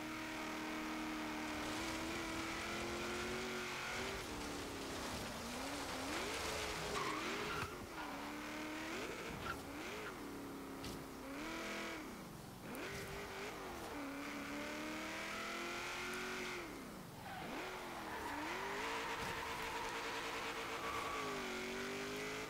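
Engine of a 1971 Chevrolet Vega GT in Forza Horizon 3 on an autocross course, revving up and down steadily for the whole stretch with repeated tire squeal and skidding, loud and close, with no talk.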